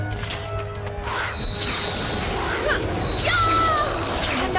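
Water splashes and sloshes in an animated fight scene, with splashing bursts and crashing hits under continuous talk and background effects.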